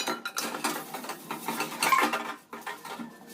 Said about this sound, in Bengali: খাওয়া শেষ করে বেসিনকে থালা বাটিগুলো পরিষ্কার করে নিতেছি।